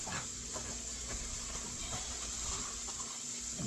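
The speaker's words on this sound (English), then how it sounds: "Okay, I'm putting my bacon in." Bacon sizzling in a pan as it cooks for a green beans and bacon dish, a steady close hiss and crackle running evenly throughout with no talk over it.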